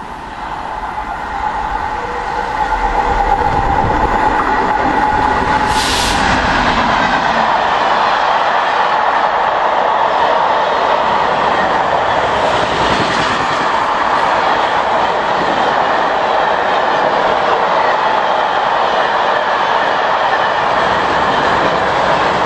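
A freight train rolls past at Long Buckby in the evening, a loud continuous rumble and clatter of wagons that builds quickly and holds steady close by, with a brief horn-like tone early on.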